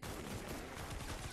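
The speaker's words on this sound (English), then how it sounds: "so much shooting and no traps" Dense, continuous gunfire in Fortnite Save the World, a loud sustained barrage of overlapping shots with no pauses across the whole moment.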